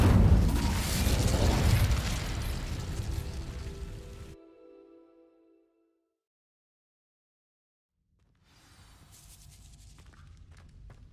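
An Incendio fire spell ignites dry vines in Hogwarts Legacy with a loud whooshing burst and crackling blaze that fades away over a few seconds, followed by silence and then a low rustling ambience.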